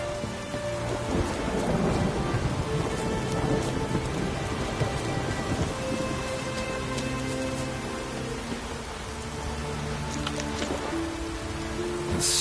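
A thunderstorm in The Witcher 3 video game brings steady heavy rain pouring on surfaces while thunder rumbles and cracks through it, loud and continuous with no talking.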